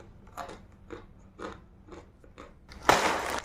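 Crunchy spicy peanut snack being bitten and chewed up close, a series of crisp crunches spaced about half a second apart, ending in a louder burst of crackling.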